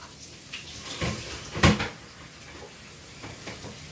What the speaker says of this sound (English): And I literally am just tossing it around in cold water.